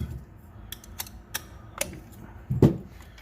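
The axle lock on a Ridgid Octane 4.5-inch cordless grinder is engaged while a part is removed, giving a series of sharp mechanical clicks and ticks, then a heavier clunk near the end, close and quiet.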